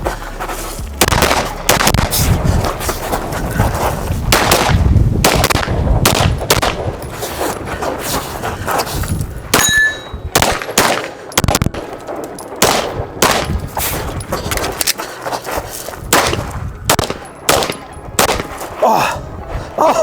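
Rapid pistol shots ring out at close range during a USPSA practical shooting stage, sharp cracks fired in quick strings with brief pauses between target arrays, continuing for about twenty seconds.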